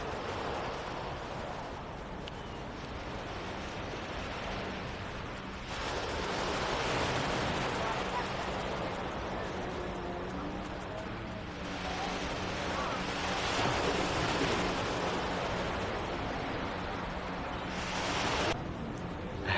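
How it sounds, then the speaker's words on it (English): Surf washing onto the beach at Nice on the French Riviera, a broad hiss that swells and recedes in slow surges, heavy with wind buffeting the microphone. "we're on the French Riviera, part of the French Riviera anyway, at Nice. This is the beach."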